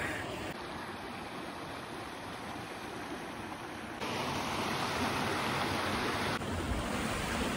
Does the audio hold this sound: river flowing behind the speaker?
yes